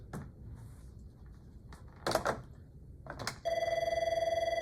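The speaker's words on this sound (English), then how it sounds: "Okay, so I just pick up the handset," A desk telephone handset is lifted from its cradle with a couple of plastic clacks and rattles, followed by a steady, close electronic dial tone that continues to the end.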